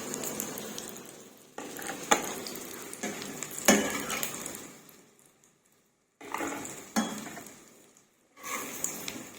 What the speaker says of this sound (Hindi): अब हम इनको दोनों साइड से गोल्डन करेंगे।